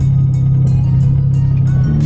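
A BMW E92 335i lowered on BC coilovers is driven, giving a loud, steady low engine drone inside the car with a faint rhythmic pulsing over it, continuous throughout and with no talking.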